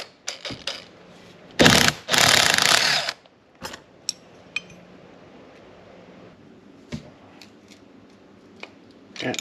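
A socket wrench working on the fuel lines of a WW2 Ford Jeep, with scattered metallic clicks and ratchet ticks, a couple of louder rasping bursts of turning, and quiet pauses between.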